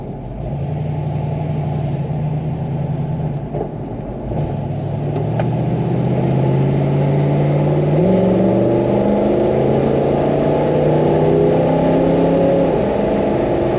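A 1966 Ford Mustang Shelby GT350-H (Hertz) V8 accelerating through gears, its engine note climbing, dropping at a shift, then rising again, loud and close from inside the car.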